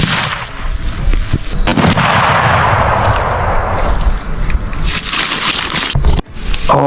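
Gunfire at wild hogs on a ranch rings out as loud, close blasts, a sustained barrage with heavy crackling and rumbling and a sharp break near the end.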